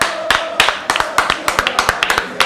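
A few people clap in sharp, separate claps on a Spanish-language talk show, loud and close, with an uneven rhythm rather than a dense crowd wash.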